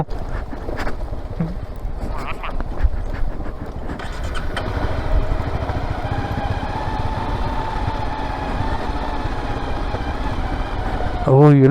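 An off-road vehicle's engine runs steadily on a steep downhill trail at Rani Jhari, a continuous close rumble with people talking over it and a brief rise in revs near the end.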